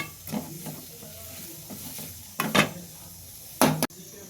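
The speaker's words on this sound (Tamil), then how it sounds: "அதை நல்லா மசாலாவோட நல்லா போகிறது வரைக்கும் நல்லா வதக்கிக்கலாம்." Goat blood fries with masala in a pan over low heat, a soft sizzle broken by several scraping stirs of a spatula against the pan, close and intermittent.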